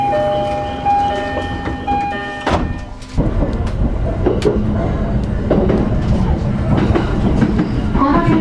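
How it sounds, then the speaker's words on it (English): A Japanese local train on the Hachiko line in Gunma rolls along the rails with rhythmic clattering and rumbling, preceded by a steady tonal chime, loud and close throughout. "we'll be heading over to the crossing using this train, the Hachiko line"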